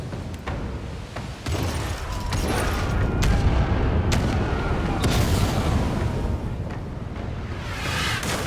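Booming cannon fire from a ship's starboard guns in a naval video game, heavy repeated blasts over a dense, continuous low rumble of battle and sea.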